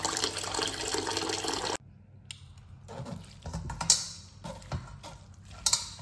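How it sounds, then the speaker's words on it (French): Cold tap water runs loudly over drained rice noodles in a sink for the first couple of seconds, then stops, leaving quieter splashes, drips and handling sounds of rinsing the noodles for phở. "Maintenant je les égoutte. Je le rince sous le froid 2 fois."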